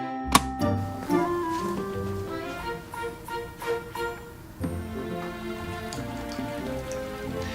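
Liquid poured from a container in a ring stand falls in a steady splashing stream into a bucket, a continuous patter with a few sharper drips and thunks near the start, alone without voices.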